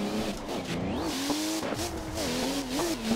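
A Toyota JZX100 drifts on a track in Assetto Corsa, its engine wailing and rising and falling in pitch while tires squeal and skid continuously under hard handbrake use.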